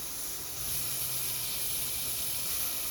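Steady hiss of chopped tomatoes dropped into a hot pan for a vegetable curry, a broad close sizzle that swells slightly after the first half second and holds evenly with a small clink near the end.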